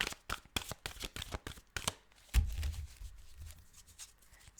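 A new, stiff tarot card deck, Psychic Tarot for the Heart, is shuffled by hand close up: a quick run of crisp riffling flicks, then a softer thump and fainter slides of cards.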